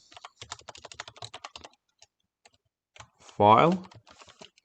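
Clicky computer-keyboard typing comes in quick runs of keystrokes, pauses, then resumes, and a short spoken word cuts in between the bursts.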